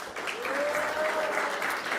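Warm crowd applause for the Air Force Gaming Rocket League team at a live esports championship event, a continuous, even roll of clapping with a faint whistle-like tone riding over it.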